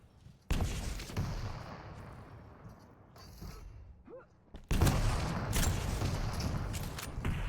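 Weapon fire in Quake Champions during a competitive duel match: bursts of explosive blasts and impacts, loud near the start and again in a dense stretch near the end, with quieter game ambience between.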